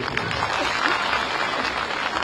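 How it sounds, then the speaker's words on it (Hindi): An audience at an Uttarakhand local election rally in Dehradun claps in a dense, steady burst of applause throughout, with crowd noise and a voice faintly mixed underneath. "ताली बजा दिए जोर से।"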